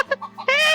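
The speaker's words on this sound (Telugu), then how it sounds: "చూస్తారా కోళ్ళు ఇవి" Kadaknath country chickens give a few short, close clucks, then a longer, sustained call rises over a faint low hum.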